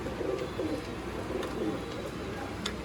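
A pair of pigeons in a coop coo in soft, repeated throaty bursts close by, the low warbling calls overlapping in a steady rhythm.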